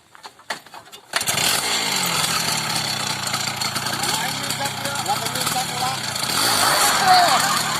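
A trail motorcycle engine fires up after a few faint clicks and keeps running loud and steady, revving slightly near the end, with people talking over it.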